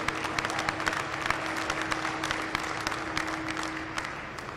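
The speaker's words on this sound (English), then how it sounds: "give each other a round of applause" Crowd applause at a county fair livestock event, dense clapping with distinct sharp individual claps standing out, steady and fairly close, tapering slightly toward the end, with a faint sustained hum underneath.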